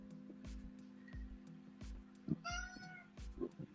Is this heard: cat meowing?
yes